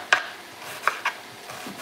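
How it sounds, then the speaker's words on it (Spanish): A knife chops an onion on a board in a few sparse, sharp cuts with quiet pauses between them. "Aquí estoy picando la cebolla."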